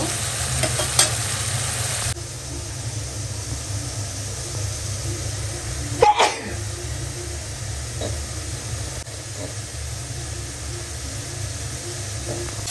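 Meat hits spices that are being fried down in a pan, giving a steady, close sizzle with a few scraping stirs and one sharper clatter partway through.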